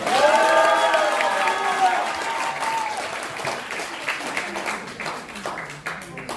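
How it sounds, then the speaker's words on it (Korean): Audience applause at a launch ceremony for an election-monitoring group: steady, full clapping from a sizable crowd. A voice speaks over it at the start, and the clapping thins gradually toward the end. "박수 부탁드립니다."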